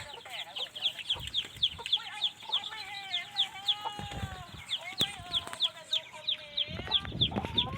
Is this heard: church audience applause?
no